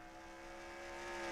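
Race cars roar at New Hampshire as the green flag starts a race, a steady distant engine drone that swells slightly louder toward the end, with no voices.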